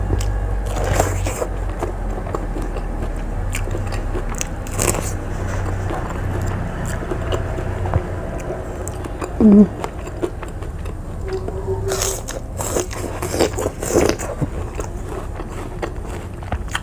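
Raw banana blossom with rujak sambal chewed and bitten close to the mic, crunchy bites and wet chewing in irregular bursts with occasional rustles.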